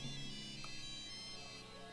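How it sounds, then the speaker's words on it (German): A satellite phone rings in LEGO Jurassic World with a short electronic jingle, a bright, thin melodic tone that plays steadily and quietly over a soft game soundtrack. "Das Telefon, dieser blöde Jingle, ich hab's gehört."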